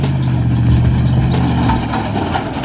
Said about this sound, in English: he's got a trailer hooked up to the back of this doing a burnout